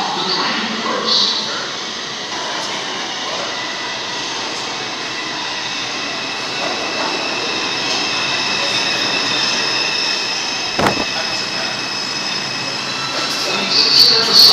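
Bronx-bound R142 subway train at 59th Street station on the Lexington Avenue line, a steady loud rumble and hiss of cars in the station with brief squeals and clanks, while recorded announcements play over it.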